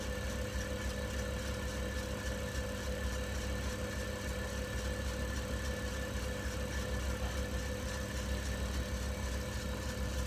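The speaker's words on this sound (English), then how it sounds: "This is as fast as this machine's going to go." A harmonica reed punch machine runs at its top speed of about 2,000 rpm, a constant droning hum with a whining tone, close and unchanging throughout.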